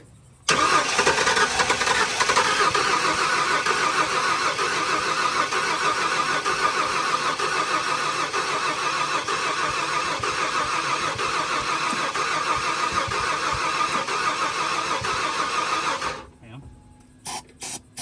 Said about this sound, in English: We're going to see if this thing will run off its own gas in however many years.